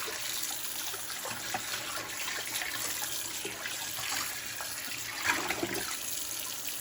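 Water runs and splashes steadily, like a tap pouring over Polish pottery dishes in a sink, with small clinks and trickles throughout.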